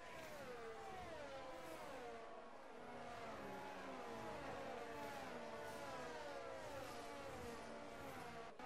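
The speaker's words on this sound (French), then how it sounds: "t'as une McLaren puis une Mercedes là, qui pousse. Et il pousse fort, là." Several racing cars, a McLaren and a Mercedes among them, roar together in a video game race with engines whining through rising and falling gear changes, a steady, loud pack sound with no talk.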